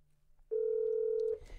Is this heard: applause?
no